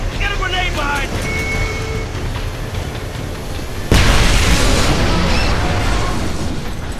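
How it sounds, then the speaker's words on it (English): Loud explosion destroying a sentry tower in the video game Homefront, a sudden heavy blast cutting in over continuous battle noise and rumbling engines, with game dialogue heard earlier. "Ryona, we just took down a sentry tower less than 100 yards from the tunnel exit"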